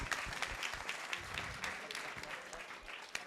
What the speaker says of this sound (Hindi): हर एक बंदा ताली बजा रहा है, एक लेट होके बाद में भी बजा रहा है